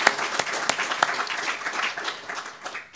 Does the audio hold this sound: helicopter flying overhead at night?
no